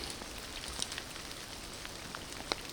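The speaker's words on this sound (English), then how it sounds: "In the rain, it's coming down." Steady rain falls on a muddy hiking track with boardwalk sections, a constant soft hiss with a couple of louder drop impacts, no talking.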